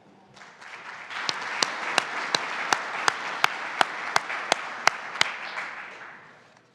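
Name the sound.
audience applause welcoming the speakers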